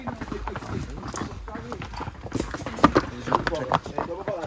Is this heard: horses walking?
yes